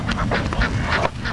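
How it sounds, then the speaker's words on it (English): A duck at the park quacks in a quick run of raspy, rhythmic calls, close and fairly loud, with no talking over it. "Look at that duck"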